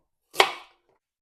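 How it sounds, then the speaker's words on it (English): A single sharp knife chop through potato or carrot on a cutting board, one crisp close thud that fades quickly, alone in a quiet kitchen. "Just going to cut them into chunks"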